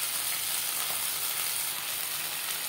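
Pieces of fish for mach paturi fry in a kadai, making an even, close, continuous hiss of hot oil with no breaks.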